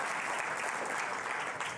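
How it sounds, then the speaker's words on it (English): A room of people in a mission control centre for an Ariane rocket launch applauds in a steady, dense round of clapping, heard alone at moderate distance. "Stefan is getting a round of applause in here in Jupiter"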